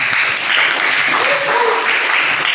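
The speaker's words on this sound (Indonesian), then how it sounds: "Oke, kasih tepuk tangan." An audience in a teaching session gives a sustained round of applause, dense and fairly loud, with a brief voice or whistle-like tone rising over the clapping midway.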